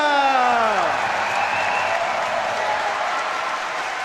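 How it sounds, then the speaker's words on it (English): A large crowd at a Rubik's Cube European Championship cheers and applauds loudly and continuously for a Polish speedcuber, with a brief voice at the start before a dense, sustained wash of clapping and cheering. "Massive, massive cheers from the crowd for Theodor."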